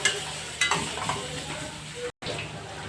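Broken green chillies fry in a pan with a steady low sizzle, punctuated by a few light scrapes and knocks of a utensil, close and moderate in level, with a brief dropout near the end and no speech.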